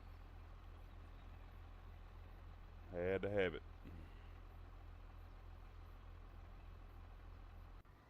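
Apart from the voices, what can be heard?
Case tractor Cummins engine running, Farming Simulator 25 video game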